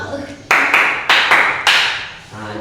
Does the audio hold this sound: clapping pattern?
yes